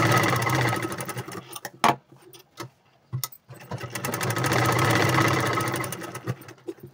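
A sewing machine stitches cloth onto blouse sleeves, running in loud, close, steady rapid bursts, stopping briefly in the middle for a few separate clicks before starting up again.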